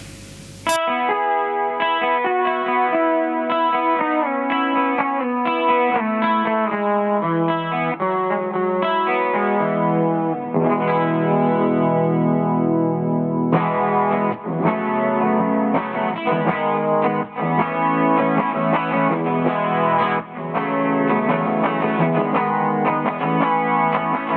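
A Stapleton Aurora electric guitar, made in New Zealand, strums a series of basic chords on a clean tone, ringing and fairly loud, changing every second or two with a slightly effected shimmer.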